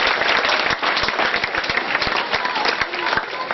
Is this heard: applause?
yes